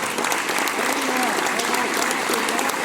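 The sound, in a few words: applause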